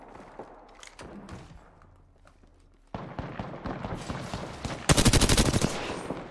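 Gunfire from rival teams fighting in Apex Legends crackles in scattered distant bursts, then grows louder and denser into rapid automatic fire with sharp close shots near the end.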